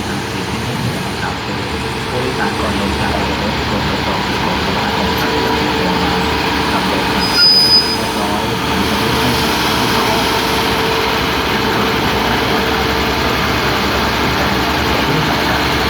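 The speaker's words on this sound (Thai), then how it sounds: "นี่นะขบวนรถด่วนพิเศษที่ 8 นะครับ เชียงใหม่กรุงเทพ" Thai special express diesel railcar train no. 8, Chiang Mai to Bangkok, with a Daewoo unit, idles at a station as a steady low engine rumble, with one brief louder burst midway.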